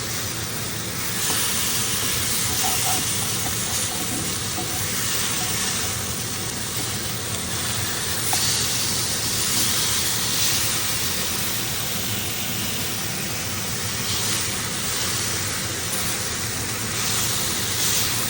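Sirloin steak sears in an overheated cast iron pan, giving a loud, steady broadband hiss that holds for the full stretch with only small swells and no talk.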